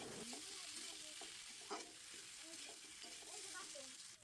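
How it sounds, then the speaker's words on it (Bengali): Fried potato and cauliflower pieces stirred into sizzling spices in a pan, with a soft steady frying hiss and a few light spatula scrapes, quiet and close with no talking. "আলু কপি দিয়ে আমি এখন একটু ভালো করে নেড়েচেড়ে নিচ্ছি যাতে মশলার সঙ্গে ভালো করে মিশে যায়।"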